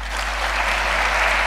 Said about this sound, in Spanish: Hay que aplaudir.